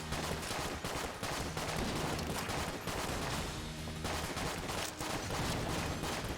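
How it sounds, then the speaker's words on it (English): Dense, continuous gunfire from dual-wielded pistols with reloading in the bullet-hell video game Enter the Gungeon, loud and unbroken throughout without pauses, layered over game music and effects. "fire 2 pistols at the same time and constantly reload them"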